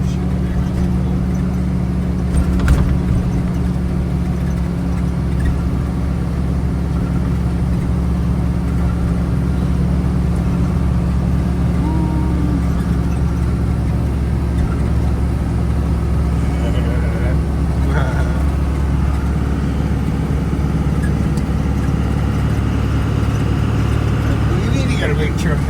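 A 1950s-era Power Wagon truck, parked for 30 years, drones steadily under load while towing a small 310 four-wheel-drive on a gradual greasy downhill pull, its low engine rumble continuous and close, with people talking over it.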